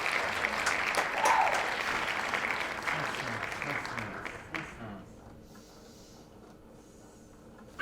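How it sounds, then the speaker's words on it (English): A studio audience claps in a quick burst that starts loud, thins out and fades to quiet after about four seconds, with voices mixed in during the applause. "Let's give him a round of applause."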